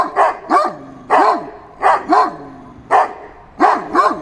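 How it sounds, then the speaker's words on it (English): Guard dogs bark in loud, close bursts, about ten sharp barks in uneven clusters with brief gaps and whining yelps between them. "maybe they're getting tired of barking at us"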